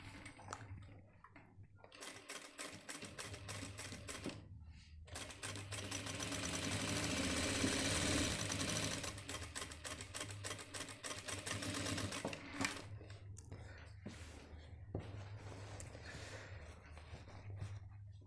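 An electric sewing machine runs a steady seam across the back-pocket strip of a men's trousers, with a long continuous middle run framed by shorter start-stop stitching and the low hum of the motor.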